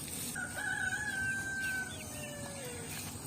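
A single rooster crows from a rural village yard, one drawn-out call rising and trailing off over about two and a half seconds, moderately near against a faint outdoor background.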